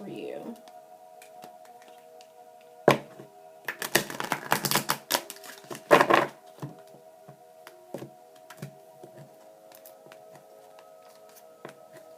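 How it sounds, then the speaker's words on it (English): Tarot cards are shuffled and pulled, with soft riffling, flicking and sharp taps close by, clustered in a busy burst midway, while a low hum runs throughout. "I'll pull 3 cards"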